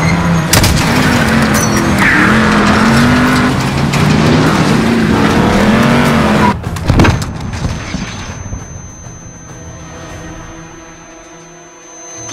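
Heavy truck engine roaring loud and close in a Call of Duty Modern Warfare highway battle, a steady droning rumble with rising pitch, then a sharp crash and burst around the midpoint before fading into quieter rumble and tail.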